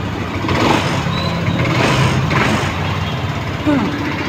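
A motorcycle engine that had been submerged in floodwater runs after its exhaust was opened, a steady close mid-pitched drone with slight revving, while someone talks over it.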